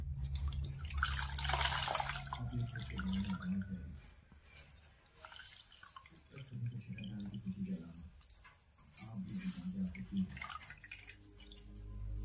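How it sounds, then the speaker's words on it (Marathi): Water dripping and trickling away as homemade paneer is drained and squeezed, irregular splashy drips that rise and fall, close by, with a person talking over much of it. "आता हे यातलं आहे ना पाणी सगळं काढून घेऊया।"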